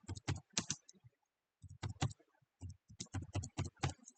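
Someone types information into a test form on a keyboard: soft, close clusters of keystrokes in uneven bursts, separated by brief silent pauses.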